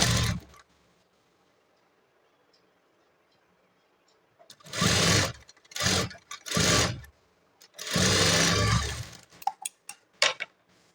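A sewing machine stitches a blouse side seam in short, close bursts of whirring after a long quiet stretch, with several brief stops and a few final quick taps.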